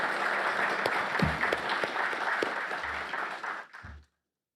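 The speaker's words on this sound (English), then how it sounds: "give her a round of applause in that regard" An audience applauds at the opening ceremony of a credit union summit, a thick, steady clapping with a few louder thumps, holding for about four seconds before tapering off and stopping.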